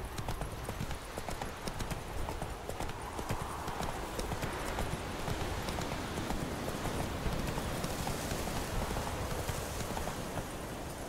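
Hooves of Roach, Geralt's horse in The Witcher 3, clip-clopping in a steady rapid gallop through dense continuous ambience, loud and close throughout, with no pauses.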